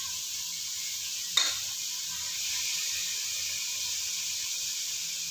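Fresh mint leaves drop into a hot pan and burst into a sharp, bright sizzle, then settle into a steady hiss of frying that runs on without a break. Nobody speaks.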